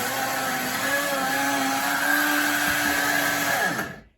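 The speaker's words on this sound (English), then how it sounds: "The blender's on lock. The outlet's plugged in. Here we go. Time to blend our juices." A kitchen blender whirs loudly and steadily as it blends juices, its motor pitch holding and then winding down to silence at the end, with no talking.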